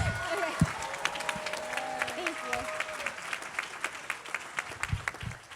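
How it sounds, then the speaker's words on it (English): A round of applause from attendees at a group gathering, moderate clapping spread across the clip with scattered voices and chatter mixed in. "Can we get a big round of applause for everybody?"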